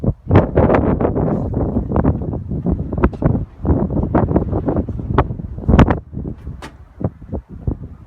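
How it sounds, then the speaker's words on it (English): Gusty wind buffeting a lodge balcony at Center Parcs Sherwood Forest, a continuous rumbling roar with irregular thumps and flutters of wind across the microphone, loud and close throughout. "it's quite a windy day today"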